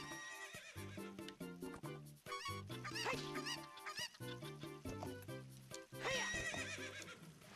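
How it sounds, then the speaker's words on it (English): Horse neighing and whinnying in a Zelda video game, with clip-clopping hooves throughout, set against a busy musical game soundtrack; several loud neighs stand out over the steady hoofbeats. "Very careful with the horse, because she's super finicky."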